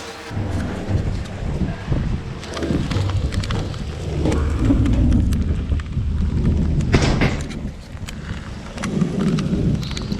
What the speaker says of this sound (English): it's starting to rain really, really good outside